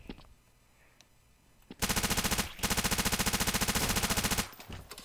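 Automatic rifle fire from the video game Counter-Strike: Source, heard as two loud, rapid bursts of evenly spaced shots separated by a brief pause, with no voices over it.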